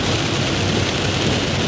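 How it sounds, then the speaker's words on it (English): Heavy rain pours down outside in a dense, steady roar, loud and close, with a deep rumbling undertone and no voices. "It is so loud because it's raining really bad out"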